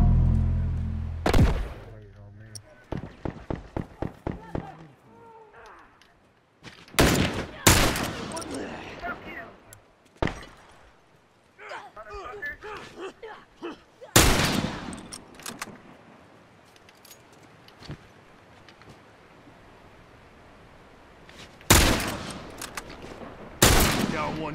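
Rifle gunfire from The Last of Us Remastered, set on a dam, rings out in several sharp, loud bursts and single shots spread through the clip, with quieter clatter and movement between them.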